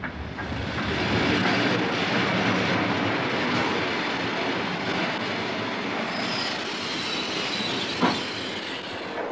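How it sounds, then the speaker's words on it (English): A passenger train bound for Moscow rolls along steadily, with continuous loud rumble, rattling railcars and a thin high wheel squeal running throughout, plus a brief knock near the end; no voices. "From there, Oswald boarded a train for Moscow."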